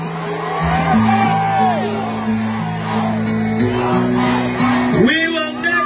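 A Davao crowd at a solidarity walk shouting and chanting for Duterte, a loud, sustained mass of voices with droning, held tones rising and falling in steps and occasional whoops breaking through.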